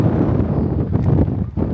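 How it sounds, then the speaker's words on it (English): Steady, heavy low rumble of strong wind in the Badlands buffeting the microphone, continuous and loud throughout with no clear voices. "but it is stupid windy right now"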